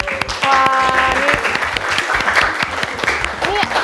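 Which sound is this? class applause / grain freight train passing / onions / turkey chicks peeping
class applause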